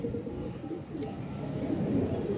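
Pigeons kept in a loft coo softly and continuously, a low murmuring flock sound close by with faint background noise.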